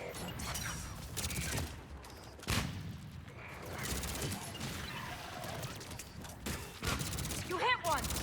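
Gunfire crackles through a video game battle, scattered shots and mechanical clatter spread across the clip at moderate loudness, with voices calling out over the fighting.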